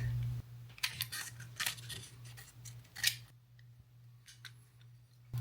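Scissors trim the edges of tape for a UV resin project in several crisp snips close by, over a low steady hum.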